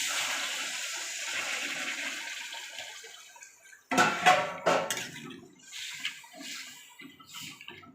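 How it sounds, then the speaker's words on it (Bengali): Water is poured into a pan of simmering mutton curry, a gushing splash following a stretch of sizzling, then clinks and stirring sounds from the pot. "এবার জল দিয়ে দেব।"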